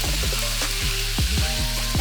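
Meat sizzles in plenty of oil in a wok over high heat. The frying hiss is steady and close, broken by a few sharp clanks of stirring.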